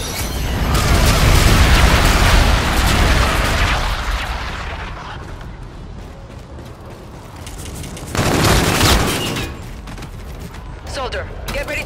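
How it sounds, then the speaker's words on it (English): Enemy artillery bombardment in a video game, with heavy rumbling blasts and a loud burst of explosions, then a second impact later on, all under a voice speaking. "Enemy bombardment incoming."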